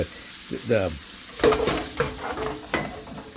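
A low-carb diner-style patty melt sizzles on a grill, with brief frying crackle and a scrape or two of a utensil. A voice briefly overlaps it, close and moderately loud.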